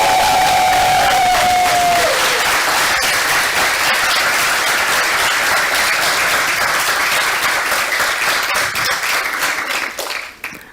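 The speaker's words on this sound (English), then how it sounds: "Let us give a final round of applause to our graduated Masters of Space Studies" Sustained applause from a graduation ceremony audience honouring Masters of Space Studies graduates, dense continuous clapping with some cheering that carries for ten seconds and then fades out.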